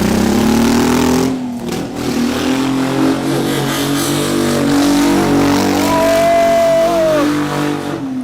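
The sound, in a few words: home-built Lamborghini car revving while doing a donut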